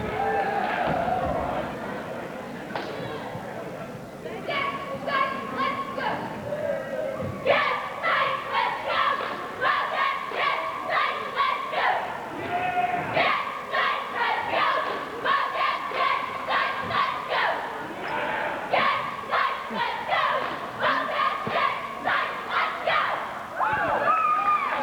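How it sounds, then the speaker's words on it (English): A packed gym crowd at a high school basketball game in overtime cheers and chants in rhythmic bursts led by cheerleaders, loud and continuous with shouts and stomping under it. "the Wildcat cheerleaders doing a good job cheering on this crowd"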